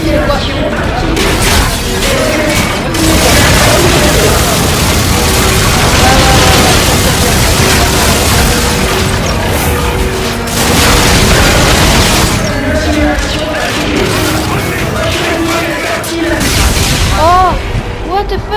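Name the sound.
gunfire and explosions in video game Call of Duty Infinite Warfare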